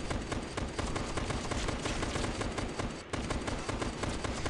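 SMG gunfire in the video game Last Day Alive, a dense rapid stream of shots rattling loudly and almost without pause, with one short break just past the middle.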